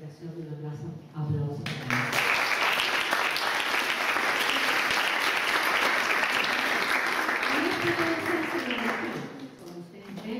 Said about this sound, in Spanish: yo voy a pedir la reiteración de un aplauso.